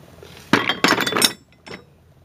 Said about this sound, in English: It's a big washer here.